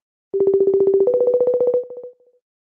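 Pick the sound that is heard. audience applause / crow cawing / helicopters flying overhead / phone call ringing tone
phone call ringing tone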